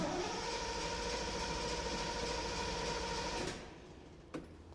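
Triumph Stag V8 engine, left standing for three years, being cranked over by the starter, an even churning whirr that runs steadily for several seconds and then cuts off, followed by a single click.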